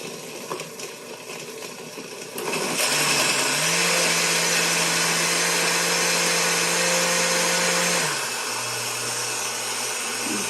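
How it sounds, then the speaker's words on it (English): An Oster blender purees strawberries and banana into a smoothie. After a quieter start it runs loud and steady, with a whirring motor that shifts pitch as the fruit breaks down and settles near the end. "you want to blend it until all the fruit is broken down with the strawberries"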